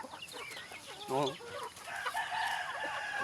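A chicken gives a short burst of clucking calls over a busy background of voices and outdoor noise, with someone speaking briefly.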